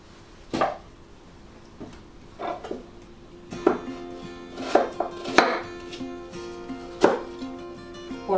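A knife chops through an apple in sharp, uneven strokes on a board, cutting it into quarters, a handful of crisp cuts spaced a second or so apart with no talking.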